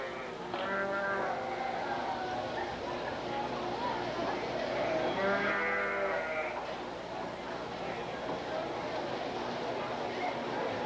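Sheep bleat at a livestock show, with several wavering calls rising over a steady crowd murmur and the hum of an indoor arena.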